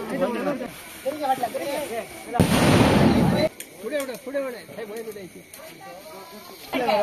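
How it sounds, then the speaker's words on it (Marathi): Firecrackers set off during a Ganesh Chaturthi village celebration, heard as one loud, close, hissing burst lasting about a second amid continuous chatter from several voices. "कितले बॉम्ब आले म्हाका पोती पळया गायज कितले आहा ते."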